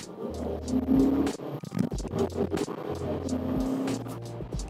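A Maserati 3200 GT V8 BiTurbo with an automatic gearbox accelerates, its engine droning and rising in pitch up close, with a brief tire squeal and wind noise over a rumbling road.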